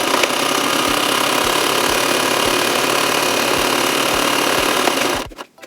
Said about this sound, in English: Let's stitch it.